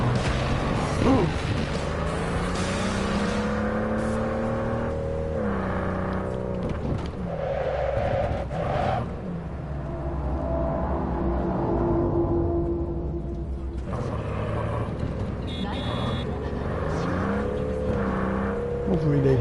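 A top car in Cyberpunk 2077 speeds along with a loud, sustained engine roar that rises and falls in pitch as it accelerates, with a few impacts. A voice talks over it.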